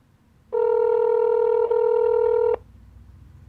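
A telephone call to a school produces a single loud, steady dial or ring tone lasting about two seconds with a brief dip in the middle, then quiet line noise.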